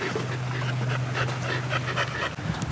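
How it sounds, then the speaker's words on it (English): Dogs, wet from being outside, pant steadily and close by in a continuous breathy rhythm, with a low hum running underneath and no talking. "The dogs are ready."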